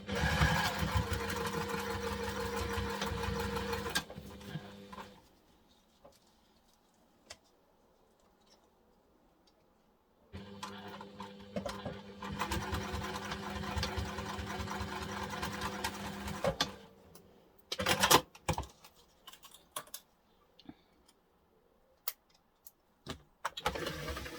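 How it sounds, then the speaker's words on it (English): A sewing machine stitches the seams of a reusable fold-and-store duffle bag, running in two long, steady bursts separated by a quiet pause, followed by scattered clicks and handling knocks. "Then we're going to stitch them using the seam allowance given in the pattern."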